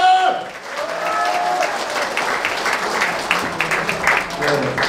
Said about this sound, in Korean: 수고해주신 유가족 회원님께 다시 한번 박수 부탁드리겠습니다